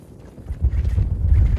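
Strong wind at a ski area in Greenland roaring against the microphone, starting softer and building into heavy low-pitched buffeting gusts.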